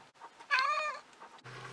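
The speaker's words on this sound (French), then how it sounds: "le chat qui avait le moins de patience au monde" An impatient cat meows once to be let outside, a clear, drawn-out cry close by with no talking over it.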